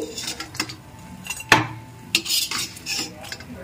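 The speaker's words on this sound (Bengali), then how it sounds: "এখন বড়িগুলোকে একটু ভেজে নিচ্ছি।" Lentil dumplings (bori) fry in oil in a pan, stirred with a utensil that gives several distinct scrapes and knocks over a soft, intermittent sizzle, without speech.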